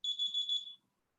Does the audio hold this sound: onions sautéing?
no